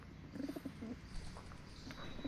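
Pigeons coo softly in a few short, repeated phrases against a steady outdoor background hum, with other birds chirping faintly.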